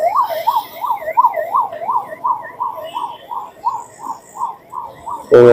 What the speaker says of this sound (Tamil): ஆம்புலன்ஸ் வந்துடுச்சு.